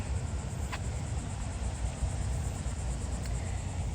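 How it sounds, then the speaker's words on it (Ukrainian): A cicada drones in a Jacksonville, Florida setting, a steady, loud buzzing chorus that holds unbroken from start to finish. "оця цикада, то щоб воно на мене сіло, оце щастя"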